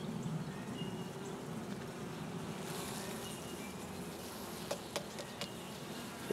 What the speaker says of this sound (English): There's a lot of bees on there